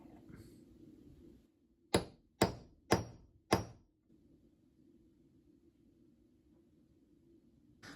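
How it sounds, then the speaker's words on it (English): Four sharp metallic hammer taps on a centre punch in quick succession, close and crisp, against a quiet low hum. "Carefully line up the centre punch."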